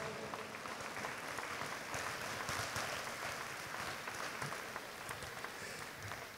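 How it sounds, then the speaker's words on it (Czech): Steady, dense applause from an audience at a fashion design event, honoring guests, continuous and even throughout with no voices standing out. "No a potlesk pre našich vzácnych hostí."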